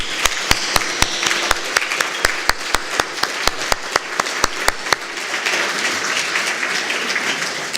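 Audience applause for the International Steering Committee at a GFMD plenary session, a dense steady clapping with sharp individual claps standing out, fading into a softer wash near the end.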